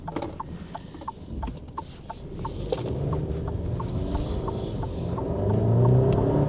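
An Alfa Romeo Giulia with a turbocharged four-cylinder petrol engine drives along, its engine note building steadily with mechanical clicks and road noise, rising toward a louder, punchier pull near the end.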